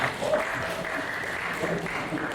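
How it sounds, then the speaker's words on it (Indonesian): Audience applause at a Bank Indonesia community outreach event, steady clapping filling the room at moderate loudness throughout, with faint voices mixed in. "Beri aplaus dulu buat Mbak Sinta."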